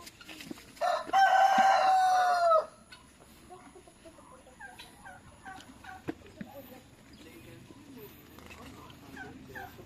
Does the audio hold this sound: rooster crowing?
yes